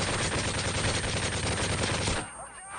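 Rapid automatic gunfire rattles loudly and continuously in the video game Call of Duty: Modern Warfare 3 survival co-op mode, then cuts off abruptly near the end.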